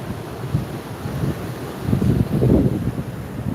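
Gusty wind at a beach buffets the microphone, a low steady roar that swells louder in the second half, with no voices.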